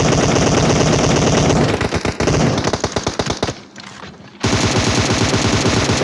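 Rapid automatic gunfire from a battle royale video game rattles loud and continuous, briefly dropping away to a quieter lull before a dense burst of shots resumes.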